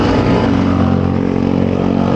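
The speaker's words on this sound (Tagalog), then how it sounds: "Ay, ang iingay ng motor." A loud, steady engine roar fills the whole moment, close by, a continuous low drone of motorcycles rumbling past without a break on a steep uphill road climb.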